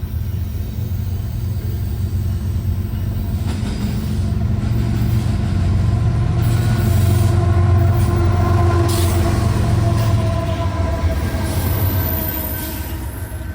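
A freight train rolls past close by in Elkhart, a long heavy rumble with clattering wheels and faint squeals, swelling then easing off at the end.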